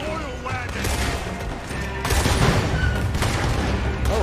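Dense video game gunfire aimed at an oil wagon, a continuous loud fusillade of overlapping shots and booms that swells midway, with some voices underneath.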